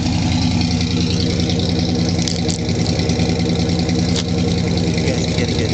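A 1976 Ford F-100 Ranger pickup idles, recorded close to the exhaust: a steady, loud, low rumble with an even pulsing rhythm and no talking.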